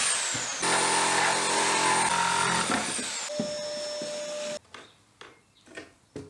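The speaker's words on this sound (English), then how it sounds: "then I can cut it with a reciprocating saw" Reciprocating saw cutting a piece of wooden trim while a table is being built, a loud steady buzzing whine for about three seconds, then a shifting motor tone before it stops, leaving a few quiet knocks and handling sounds.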